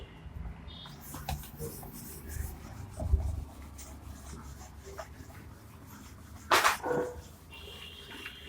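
A board eraser rubs over chalk or marker writing on a classroom board during a physics lesson, a soft close scraping that runs in bursts, with one sharper loud swipe near the end and no talk.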